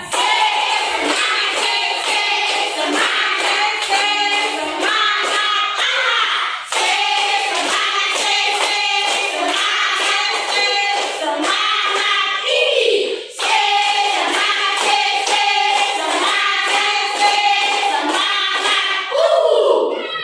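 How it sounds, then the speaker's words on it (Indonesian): Children in an Indonesian classroom clap in quick rhythmic bursts as a group cheer, in counted sets with short pauses between them, close and loud, with voices chanting along. "Satu kali tepuk semangat. Dua kali tepuk semangat. Tiga kali tepuk semangat."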